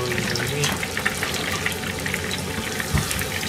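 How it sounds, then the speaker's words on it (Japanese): Salmon grilling in a frying pan gives a steady, close hiss and sizzle with a faint crackle running through it. No one speaks over it. "鮭が焼けましたね。"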